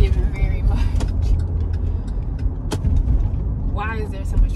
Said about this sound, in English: Why is there so much traffic and why does everybody drive so aggressively?